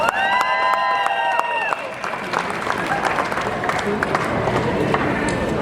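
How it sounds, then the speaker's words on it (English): An outdoor crowd at the Caribana kick-off at Police Headquarters in downtown Toronto claps and cheers steadily, with a few whistle-like tones early on and continuous applause filling the rest. "Round of applause again,"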